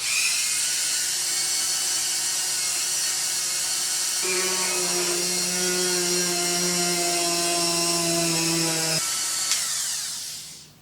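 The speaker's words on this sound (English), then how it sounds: "the other thing you need to do with your Dremel is cut some slots in here for a hose clamp" A Dremel rotary tool whines at high speed while cutting slots for a hose clamp, the pitch dropping into a harsher grinding tone while the bit bites the material, then spinning down at the end.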